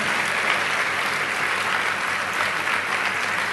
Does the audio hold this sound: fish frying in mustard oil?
no